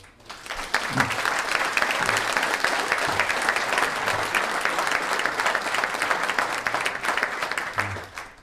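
An audience at a mayor's New Year address in a hall applauds steadily, a dense, even wash of many hands clapping, loud and sustained for several seconds, with faint voices beneath.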